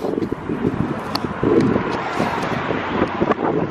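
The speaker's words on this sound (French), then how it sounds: "J'espère que vous m'entendez bien avec le vent parce qu'il y a beaucoup de vent." Strong outdoor wind in Paris buffets the microphone with a continuous loud rumble and gusts, masking everything else.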